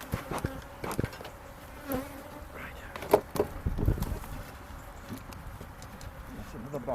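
Bees buzz around an opened beehive with a wasp among them, a continuous close insect hum with scattered knocks and handling sounds as people talk nearby.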